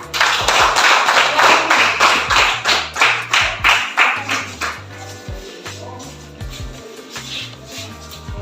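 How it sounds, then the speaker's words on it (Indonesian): A group claps in a burst of applause that gradually thins into scattered, rhythmic claps, with faint background music underneath. "Berikan tepuk tangan buat kelompok sukacita."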